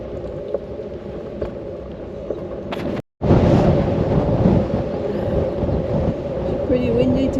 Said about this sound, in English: Pretty windy today.